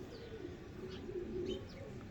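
Faint, close pigeon coos and a few chirps over a low steady background hum, with no voices.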